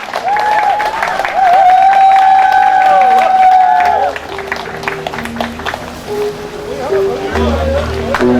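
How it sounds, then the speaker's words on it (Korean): A crowd applauds and cheers steadily, with a sustained high tone over it at first, then soft music notes begin beneath the clapping. "박수로 환영해 주시기 바랍니다"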